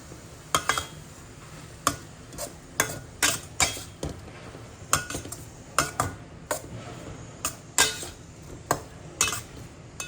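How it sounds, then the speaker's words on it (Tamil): Carrot stir fry being stirred in a pan after grated coconut goes in, a string of regular clanking scrapes of a spoon against metal over a faint sizzle, close and without talk. "தேங்காய் பூ போட்டுட்டு நம்ம அதை கிண்டணும்."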